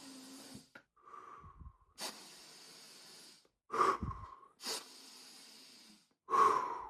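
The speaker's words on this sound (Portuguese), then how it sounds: "Esse é o breath work, trabalho de respiração." Deliberate breath-work exercise: a series of close, forceful inhales and exhales, each burst separated by short pauses, with a rhythmic, controlled pattern and no talking.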